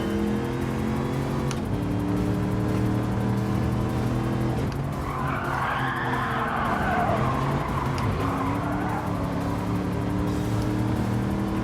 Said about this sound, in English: if you do enjoy sliding through corners, maybe not quite like that